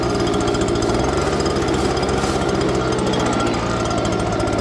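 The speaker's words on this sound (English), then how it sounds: "So the blower does its job very good." A corn-drying blower runs steadily and loudly throughout, a constant mechanical roar with a rapid pulsing rattle, no voices over it.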